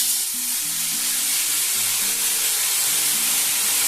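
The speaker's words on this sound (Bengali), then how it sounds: "সর্ষে আর টমেটো, আদা, কাঁচা লঙ্কা সব দেখুন বেটে রেখেছি। এখন দিয়ে দেবো এখানে।" A ground paste of mustard, tomato, ginger and green chilli sizzles loudly in a hot pan, a steady close frying hiss with stirring and no talk.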